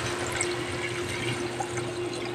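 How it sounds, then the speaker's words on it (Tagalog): Water poured into tomatoes sautéing in a pan, a continuous rushing, hissing stream with sizzle underneath, steady and close for the whole stretch, no voices. "pag naganyan na yung kamatis ni guys, ilalagyan nyo na ng tubig"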